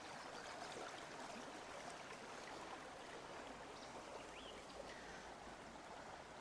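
Water rushes steadily through a freshly unclogged culvert in Arkansas, draining fast in a continuous broadband wash with a faint trickling edge, sustained and fairly close throughout.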